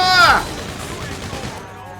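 A burst of gunfire from the video game GTA 5 erupts loudly at the start, then trails into a low rumbling game backdrop.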